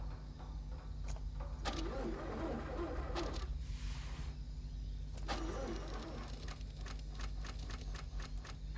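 A car engine cranks and fails to catch in two repeated bursts over a steady low rumble, heard in a scene from the TV show Pluribus while the vehicle may be out of fuel or missing its battery.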